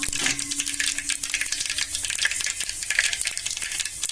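Dried red chillies and fenugreek seeds frying in oil for radish sambar, a crackly, popping sizzle with sharp spits and a brief tone near the start, close and fairly quiet.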